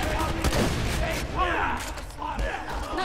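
Rapid gunfire bursts from a Borderlands 2 firefight crackle through a busy game soundscape, with excited voices talking over much of the action.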